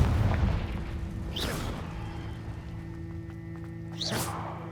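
Two magical explosive blasts from the Confringo spell in Hogwarts Legacy, each a sharp whooshing burst about three seconds apart, moderately loud over a steady hum of game ambience.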